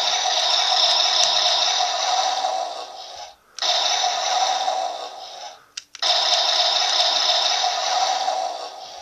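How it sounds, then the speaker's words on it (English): Electronic blasting effect from a Gosei Leon Laser toy gun, a loud buzzy synthetic burst held steady for several seconds, repeated three times with brief gaps between, close and alone with no talking. "It has a gun blasting sound like this."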